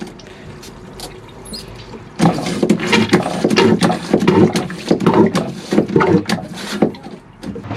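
A marine toilet fitted with a Jabsco Joker valve flushes on a sailboat, giving close, loud rhythmic pumping and gurgling water strokes after a quieter start.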